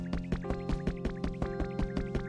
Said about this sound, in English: I was just starting to absent-mindedly water stuff